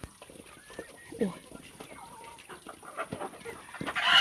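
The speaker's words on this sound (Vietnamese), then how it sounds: "Gà đẻ nhiều thế nhỉ?" Chickens cluck softly and intermittently in a laying coop, faint scattered calls with rustling, and the clucking swells louder toward the end.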